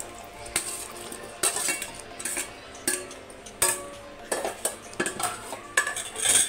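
Cooked mutton stirred with dry masala in a pan, a spoon repeatedly clinking and scraping against the metal in irregular bursts, close and fairly quiet, with a faint sizzle underneath.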